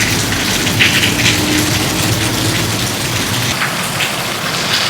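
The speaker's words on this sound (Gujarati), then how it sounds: "જોરદાર કડાકા સાથે વરસાદ ચાલુ થયો છે આજે" Heavy rain pours down steadily and loudly on surfaces in a village downpour, a dense, continuous wash with a faint low rumble of thunder beneath, no talking.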